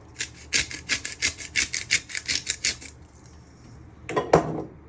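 A hand grinder cracks black pepper and salt over butternut squash soup in a rapid, steady series of close rasping crunches for about three seconds, then a single short scrape after a pause.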